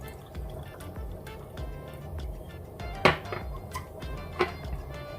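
Chickpea cooking water is poured into a dish over paprika, lemon and chili in a home kitchen, giving soft liquid splashes and drips under quiet background noise with a couple of sharper clinks.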